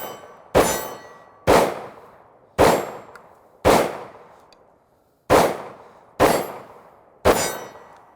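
Hi-Point C9 pistol firing outdoors: seven loud, sharp shots spaced roughly a second apart with a short pause midway, each with a quick ringing decay and no talk.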